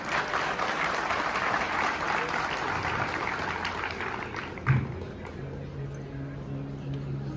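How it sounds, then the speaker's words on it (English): Sustained applause from a crowd, steady and full for most of the stretch, then thinning out near the end as the clapping fades. "can we have a huge round of applause for all the guests of the day?"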